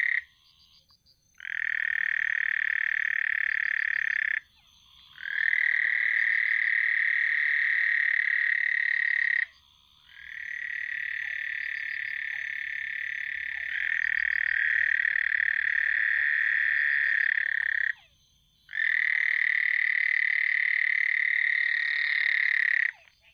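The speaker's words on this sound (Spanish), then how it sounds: "Es una rana" A frog croaking in a long, loud, buzzing trill, repeated in four sustained bouts separated by short pauses, close and clear over quiet night background.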